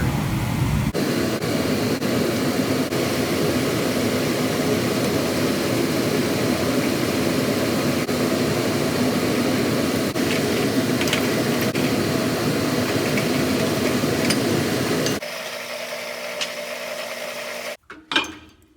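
A drill bit boring a hole during a 2x72 belt grinder build, starting with a small pilot bit; a steady, loud, continuous whir runs for about fifteen seconds, then drops away into quieter noise with a brief clatter near the end.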